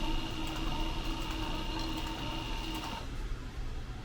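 Sewing machine stitching a fanny pack at roughly 7 to 8 stitches per inch, a steady, continuous mechanical whir with fine ticking that runs for about three seconds before easing off, no talk.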